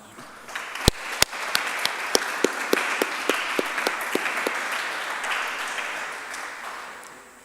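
Audience at a conference launch on contested histories and national minorities applauds panelists and moderators, several sharp nearby claps standing out over a dense, sustained round of clapping that gradually tapers.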